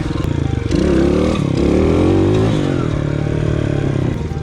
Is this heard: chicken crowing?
no